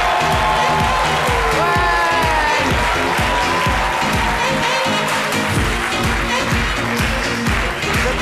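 A French television talk-show studio audience claps for an arriving guest, rhythmic group applause with scattered whoops and cheers under bright sustained music tones.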